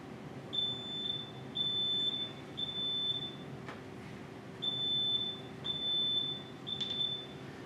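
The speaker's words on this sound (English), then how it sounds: "that's a T3 smoke alarm" A North American T3 smoke alarm chirps in a repeating pattern of three high beeps, a pause, then three more, over a low background hum.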